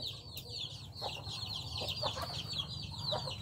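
Chickens on a farm clucking and chattering at a moderate distance, a steady overlapping flock murmur with no speech, brief, and fairly quiet.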